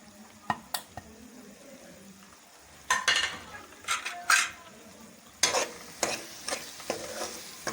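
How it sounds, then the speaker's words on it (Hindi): Ground spices (turmeric, red chili, biryani masala and cumin powder) are stirred and roasted in a pan for a white chickpea gravy, with soft sizzling and repeated scraping and clinking of a spoon against metal. "अब मसाले को अच्छी तरह से भून लेंगे।"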